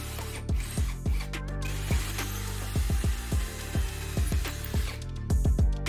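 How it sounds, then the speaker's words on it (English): Holes are drilled into a 3D printer rack with a power drill, producing a series of short, close mechanical bursts and clicks with brief pauses between them and no voices. "This drilling job could be done way beforehand"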